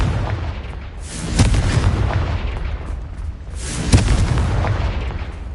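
Repeated Confringo fire-spell blasts in Hogwarts Legacy, two heavy booming bursts about two and a half seconds apart over a rumbling low background, with no talk.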